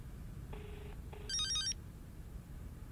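A telephone rings quietly indoors: two short plain tones followed by a brighter warbling trill, alone against a low room hum.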